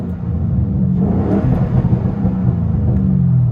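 Inside the cabin of a Ford Mustang GT with a 4.6L V8 and straight pipe exhaust, a deep, loud droning rumble fills the space, swelling slightly in the middle. No voices are heard.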